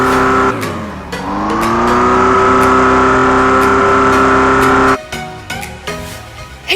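Ferrari F40 classic supercar engine in a driving video game: a loud sustained rev that drops and climbs steadily for several seconds, then cuts off abruptly into quieter gear-shift bursts and idle.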